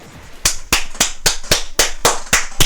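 Hands clap in applause: about ten sharp, evenly spaced claps in a steady rhythm, loud and close, with no voices.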